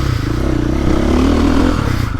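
A 2023.5 KTM 450 Factory Edition dirt bike engine runs steadily and loud at close range, a continuous throbbing idle-to-mid rev hum with no speech over it.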